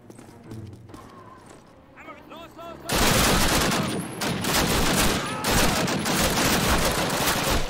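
Heavy gunfire in the 2003 Call of Duty game during a D-Day Operation Overlord mission, loud rapid bursts and continuous automatic fire erupting after a few seconds of quieter battle noise, with someone talking over it.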